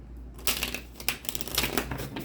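Crisp, rapid riffling and slapping of cards being shuffled, in a few quick bursts up close.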